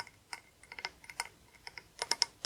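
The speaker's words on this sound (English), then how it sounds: "I do think it's kind of a satisfying sound with the short nails tapping." Short fingernails tapping on candle lids, giving quick, light, irregular clicks at close range, with sparse rhythms and a few brighter taps toward the end.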